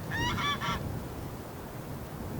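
Goose honks play back through a speaker at an indoor air gun and laser shooting range, a rapid cluster of three or four nasal calls up front, then steady room hum and low rumble.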